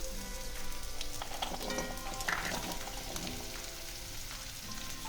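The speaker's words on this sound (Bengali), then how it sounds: "এবার আমি এর মধ্যে সজনে ডাঁটাটা দিয়ে আবার একটুখানি ভেজে নেব।" Drumsticks and potatoes frying in a pan, a constant crackling sizzle that stays even and fairly close for the whole stretch.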